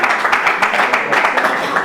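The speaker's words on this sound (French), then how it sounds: "On applaudit pour les membres du jury." Applause from a studio audience on a televised cooking show greets the jury members, a short burst of dense clapping mixed with a little crowd noise.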